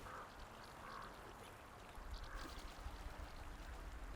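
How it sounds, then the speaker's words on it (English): Ducks quack in short, moderately loud bursts beside a flowing stream, with the steady wash of water running beneath the calls. "You listen to the birds."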